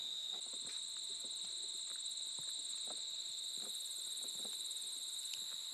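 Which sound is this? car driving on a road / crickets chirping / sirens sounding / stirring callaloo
crickets chirping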